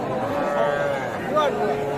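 A cow lows in a drawn-out, wavering call over steady background noise, at moderate distance, at a cattle market.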